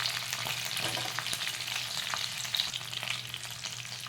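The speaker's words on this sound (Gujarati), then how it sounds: "જો ફ્રેન્ડ્સ આવી રીતે શેકાવા દેવાના" Pointed gourd (parwal) roasts in a pan with a steady, close sizzle and soft crackle that stays even throughout, with no talking.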